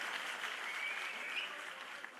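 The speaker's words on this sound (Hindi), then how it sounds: "ताली बजा दो सब लोग एक बार इनके लिए" Audience clapping in a hall at a political rally in Punjab: a steady, even wash of applause from many hands, fairly distant and soft, lasting about two seconds with no voices over it.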